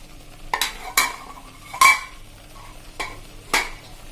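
Yogurt halwa being stirred in a pan over a medium flame, a handful of distinct scraping strokes of a spoon against the pan bottom at uneven intervals, close and clear over a faint background hum, no voices.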